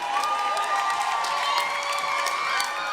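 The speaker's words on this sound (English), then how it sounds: "As we hear the cheers from the crowd" A crowd at an axe throwing world championship tournament cheers and whoops steadily, with loud, continuous shouting and applause close by.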